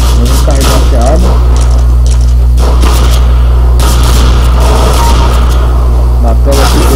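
Rapid gunfire and booming shots from Counter-Strike: Global Offensive on the Dust 2 map, dense bursts over a steady low hum, with a player talking over the game sound.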